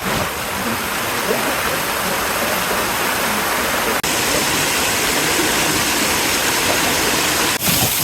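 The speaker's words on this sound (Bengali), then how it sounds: "ঝর্ণার সামনে এখন আয়া পড়ছি পুরে একবারে ঝর্ণার সামনে ঝর্ণার পানির ছিটা আবার মুখে আয়া পড়তেছে" A waterfall pours steadily at close range on a forest trail in Bandarban, Bangladesh, a dense, continuous roar of falling water with no break, one brief dip around four seconds.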